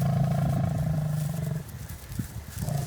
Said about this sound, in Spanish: los leones aún jadean tras la caza.